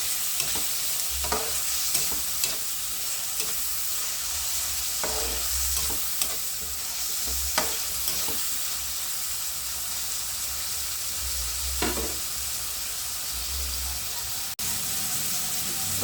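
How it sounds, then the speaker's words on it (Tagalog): Kamias sizzling in a pan as it is stirred, a steady broadband frying hiss broken by regular scraping strokes of the utensil, with faint background speech. "Bago ang sili, lutuin muna natin itong kamyas."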